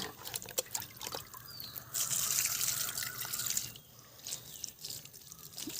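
Liquid fertilizer poured over garden plants such as hibiscus, a steady close splashing and trickling stream that swells loudest midway before easing into scattered drips, with no voices.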